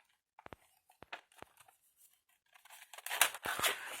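Scissors cutting through a paper envelope, a few sharp isolated snips followed by a longer crisp run of cutting and tearing paper, close and quiet with no talk.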